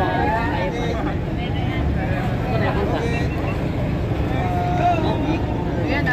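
Large boat engine droning steadily at sea on the Pacific, a constant low rumble with wind and water noise as people talk over it.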